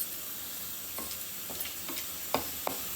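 Chana dal and urad dal frying in a little oil, a faint, steady sizzle with a few sharp crackles and pops scattered over a few seconds.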